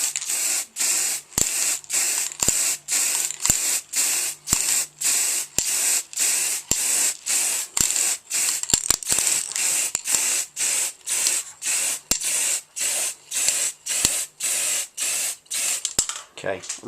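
Aerosol spray can coating a Harley-Davidson 883 Iron belly pan in white paint, fired in a steady series of short hissing bursts with brief pauses between, close and loud.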